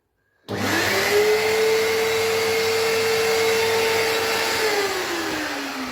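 A vacuum dust extractor with a cyclone attachment, serving a sander, starts abruptly after a moment of silence and settles into a steady, loud, close whine with a constant tone, which dips slightly near the end.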